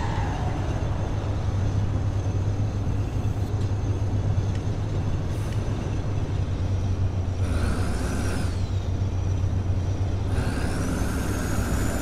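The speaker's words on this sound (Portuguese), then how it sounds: "Usar bastante o freio motor, hein, gurizada?" A Volvo truck in Euro Truck Simulator 2, hauling gasoline down a mountain grade, runs with a steady low engine-brake drone throughout, joined by two brief whooshing air-release hisses near the end, with no talk.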